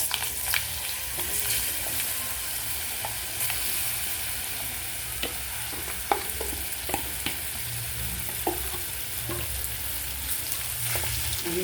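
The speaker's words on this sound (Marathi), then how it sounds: "आता आपण जे एकत्र केलेले जिन्नस आहे ते फोडणीमध्ये" A mango pickle mixture sizzles in a hot cumin and mustard seed tempering, with a steady frying hiss broken by scattered clicks of a spoon stirring it in the pan, close and unbroken by speech.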